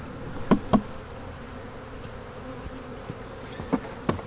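Honey bees buzz softly on a frame from a winter-damaged, beetle-infested hive, a low steady hum broken by a few short, louder buzzes as individual bees fly close.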